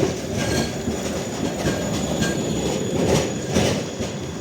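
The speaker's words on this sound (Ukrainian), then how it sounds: "О, ще один трамвай в депо до нас їде." A tram rolls into a depot in snowy Lviv with rumbling wheels, rhythmic clacking over rail joints and occasional squeals, fairly loud and close.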